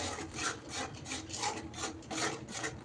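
A spoon scrapes steadily around a pan as safed matar misal masala is stirred with coconut milk. It makes a soft, rhythmic rasping about twice a second, close and fairly quiet.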